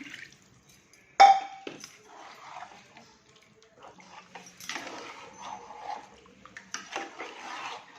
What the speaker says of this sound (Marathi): दहीचं भांडं आपलं आहे ते धुवून ह्यात टाकत आहे पाणी